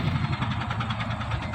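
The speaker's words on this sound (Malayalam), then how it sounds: "അങ്ങനെ ബസ് പോവാണ്." A bus engine rumbling steadily on the road, a close, even drone with no pauses and no voices.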